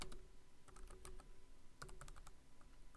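Light, quick typing on a computer keyboard while Python code is written, a run of soft clicks in irregular bursts with brief pauses, heard alone at close range.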